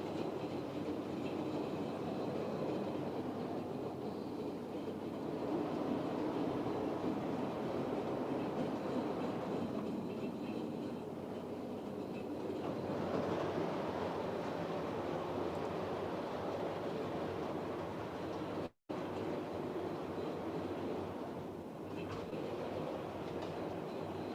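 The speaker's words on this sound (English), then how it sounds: "the sort of drumming effect that the trains have when they're going over" Model railway trains rolling over the track with a steady low drumming rumble and faint rhythmic clatter, continuous for the whole stretch, with no voices.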